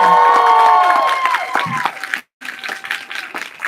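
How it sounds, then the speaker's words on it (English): A fan expo crowd applauds and cheers at the close of a Q&A with voice actress Terri Hawkes, a dense, loud wash of clapping with whistles and shouts that dips briefly and then resumes. "Terri Hawkes, please round of applause."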